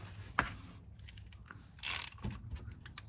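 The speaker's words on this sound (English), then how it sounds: "Switch your ratchet to tighten, which is clockwise. And send her home." A ratchet snugs an oil filter housing on a 2016 Toyota Camry, with a few faint clicks followed by a brief, louder burst of rapid ratcheting close by.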